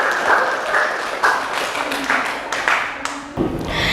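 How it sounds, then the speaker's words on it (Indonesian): Students in a classroom clap for a presenting group, a moderate burst of uneven hand claps with a few louder individual slaps, fairly close, with faint voices underneath. "Tepuk tangan untuk kelompok 3."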